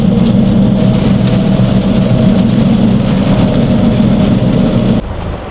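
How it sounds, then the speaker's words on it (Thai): Steady, loud rain pours down in a constant dense hiss, close by in Thailand, cutting off abruptly near the end; no voices. "ฝนตกเฉย"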